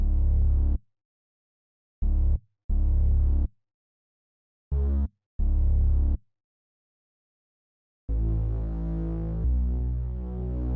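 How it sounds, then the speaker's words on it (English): A simple synth bass line tracing the piano's root notes, with randomized velocities: deep sustained low notes in short separated phrases, then a longer held passage at the end, played alone and fairly loud. "I laid down this pretty simple bass line. It just follows the root notes from the piano"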